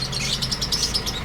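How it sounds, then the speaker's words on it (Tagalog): A pet bird chirps in a quick, steady series of high tweets, fairly close and continuous over a low background hum. "ito yung ibon ko nga"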